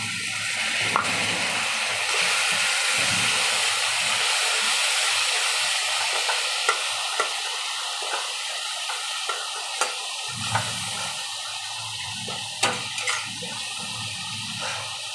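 Hilsa fish frying in a pan with a splash of water added, giving a steady hissing sizzle with bubbling and occasional stirring clinks, close and continuous throughout.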